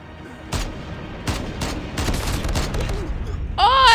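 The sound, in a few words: gunfire in Call of Duty Mobile video game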